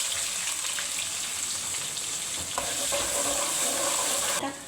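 Cumin and chopped onion fry in hot ghee for aloo keema, giving a steady, close sizzle that runs the whole time, with a few soft stirring scrapes near the end.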